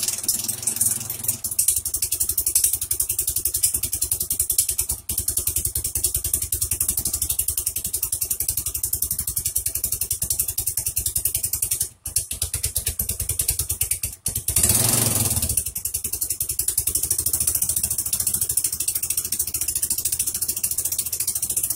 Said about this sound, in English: This is the electric start. Give it just a teeny tiny bit of gas.